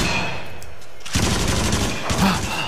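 A machine gun fires in the shooter game Until Dawn: Rush of Blood, with loud, dense bursts of rapid shots that break out twice over a rumbling game soundtrack.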